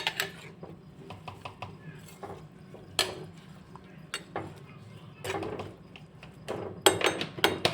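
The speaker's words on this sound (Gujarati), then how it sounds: "હવે એને હું બધું મિક્સ કરી લઈશ।" Vegetables and salt are stirred in a metal pot for Mumbai-style pav bhaji, giving irregular clinks and scrapes of a spoon against the pot, some sharp and close, over a quiet background.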